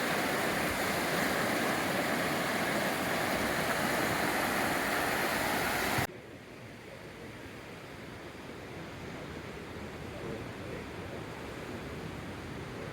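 Small low-tide waves wash steadily onto the beach at Tamarindo, Costa Rica, a broad, continuous surf hiss with no distinct breaks, heard loud at first and then noticeably softer and more distant partway through.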